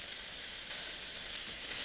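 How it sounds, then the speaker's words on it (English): Sockeye salmon belly pieces sizzle steadily in butter in a hot pan, a loud, continuous crackling hiss that holds evenly throughout with no voices. "You know your pan's hot when you hear it sizzle."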